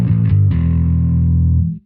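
Electric bass with a distortion effect from a Neural DSP Quad Cortex: a few gritty, fuzzy picked notes, then a thick, buzzing low note held for over a second before it stops abruptly.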